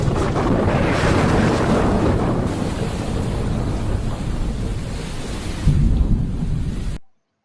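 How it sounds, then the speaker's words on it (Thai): Thunder rumbles in a long, loud, continuous roll with wind-like roar, swelling again briefly near the end before cutting off abruptly, with no voices. "เสียงอะไรน่ะนั่นก็คือเสียงฟ้าร้องฟ้าผ่าเปรี้ยงเปรี้ยงเลย"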